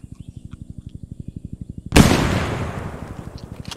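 A grenade goes off in a video game with one sudden loud blast that rolls off into a fading rumble, following a steady run of quick rhythmic mechanical pulses.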